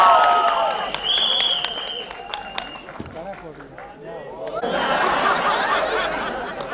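An audience bursts into loud, dense applause at a live comedy roast and trailer launch. Talk and scattered crowd noise come first, then the clapping swells and carries on steadily to the end.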